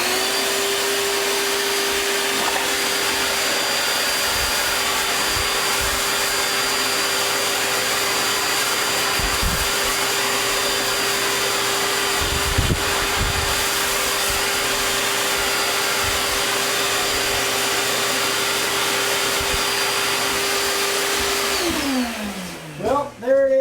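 Air blower running steadily and loudly for about twenty seconds, blowing dust off a piece of wooden wall art in a workshop, then winding down with a falling whine at the end.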